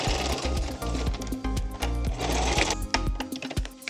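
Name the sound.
sewing machine stitching vinyl lunch bag corner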